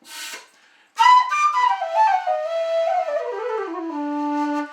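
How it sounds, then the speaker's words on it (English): A whistle played solo, a fairly loud melodic line that steps down through a descending run of held notes after a brief opening toot and pause. "You have to nurse the whistle."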